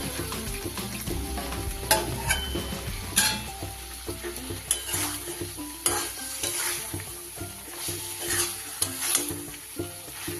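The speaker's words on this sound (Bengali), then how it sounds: "এবার আমি দিয়ে দেবো এর উপরে সমস্ত ভেজে রাখা সবজি।" Fried vegetables stirred in a sizzling pan for a Bengali fish curry, a continuous frying hiss broken by repeated scraping clinks of a spoon against metal, close and steady.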